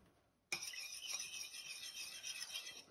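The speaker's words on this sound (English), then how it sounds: "And then we shall give it a stir." Green-coloured water is stirred in a bowl with a utensil, starting after a brief silence as a close, continuous scraping swirl with faint clinking against the bowl.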